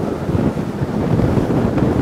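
A Boston Whaler 210 Montauk speeds across open water, a loud, steady rush of wind and hull noise with a broad low roar throughout and no voices.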